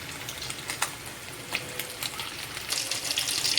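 Lake fish frying in oil in a pan, a steady soft sizzle with faint crackles and small pops, growing a little louder and hissier toward the end, with no voices.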